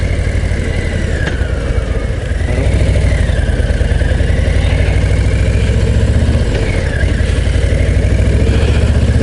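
A Harley-Davidson Low Rider ST with its big 117 cubic inch (1923 cc) V-twin idles close by, a loud, steady, throbbing lope with slight swells in pace and no voices.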